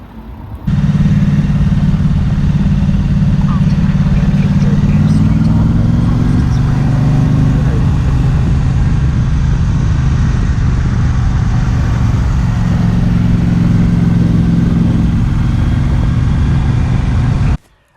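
A Triumph Street Twin motorcycle ridden along a Scottish road, its engine droning loud and steady with a low rumble that climbs slightly in pitch partway through, wind noise riding over it, running continuously from start to end.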